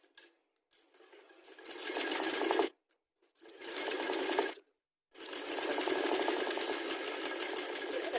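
A sewing machine stitches the back seams of a loose cotton-style palazzo in three bursts of fast, even rattling, close and loud. The bursts are separated by short silent pauses, and the last run is the longest.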